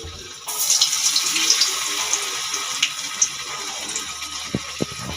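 Snacks deep frying in hot oil in a wok over a low-to-medium gas flame, a steady close sizzle and hiss with faint scattered crackles and a couple of soft knocks near the end, no talk.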